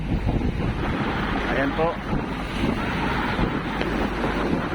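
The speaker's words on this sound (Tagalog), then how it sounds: "So medyo maalon, mahangin." On a loaded fishing boat heading out on rough sea, strong wind buffets the microphone and waves churn and slap continuously, loud and close, while someone speaks briefly.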